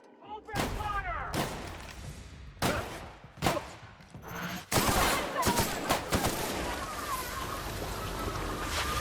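Gunfire in The Outer Worlds, a sci-fi video game: several loud, close shots in a ragged sequence, followed by a sustained roar of overlapping fire, with voices shouting over it.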